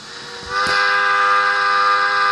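A model Mikado steam locomotive running on a rolling road sounds its whistle in one loud, sustained chime-like blast that holds steadily after a short onset.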